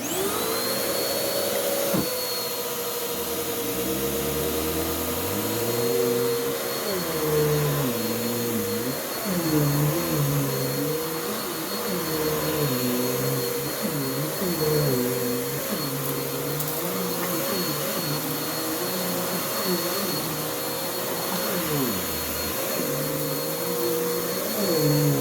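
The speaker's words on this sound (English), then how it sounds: "this is a really good cleaning vacuum" A Bissell cyclonic vacuum cleaner runs steadily for the whole stretch, giving a loud continuous motor whine with shifting, wavering tones as it moves over carpet. No one speaks.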